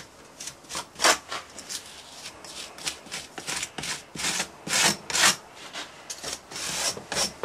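Rhythmic rasping strokes of a tool scraping rammed foundry sand flat across the top of a casting mould, close and fairly loud, in repeated uneven sweeps with no talk.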